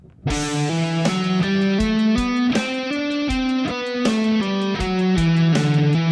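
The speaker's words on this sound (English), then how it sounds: "it will sound like this when we are playing this to a drum loop" A distorted electric guitar plays a sequence of sustained chords that change pitch every half second or so, over a steady drum loop.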